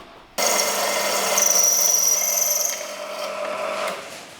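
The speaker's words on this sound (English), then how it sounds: "now I just need to drill a hole for this to go in" A loud, steady grinding whine of a drill boring into metal on a twin-turbo Nissan 350Z oil line fitting, continuous for several seconds with a high scraping edge, no talking.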